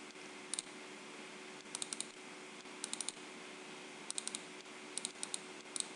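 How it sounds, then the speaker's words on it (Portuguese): A computer mouse is double-clicked again and again: faint, crisp paired clicks recur at irregular intervals over a quiet steady hum, with no talk. "Vou dar dois cliques aqui."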